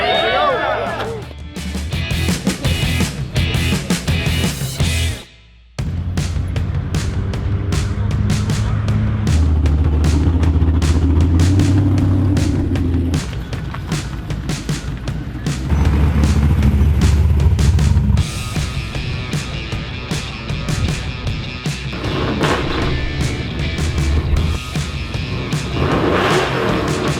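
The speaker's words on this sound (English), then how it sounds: "Can you beat me on the exhaust sound?" A muscle truck at an informal drag-racing showdown revs its engine hard, its exhaust roaring and rising in repeated pulls, loud and close, while voices talk over it.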